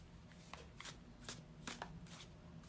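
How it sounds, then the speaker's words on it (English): A tarot card deck being shuffled by hand, soft riffling and snapping of cards in irregular bursts over a low hum, close and quiet with no speech. "Let's shuffle with intention"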